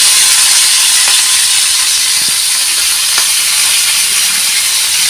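Chicken goes into hot oil with an intense, loud, continuous hissing sizzle, close by, with a few faint clicks beneath the roar and no voices.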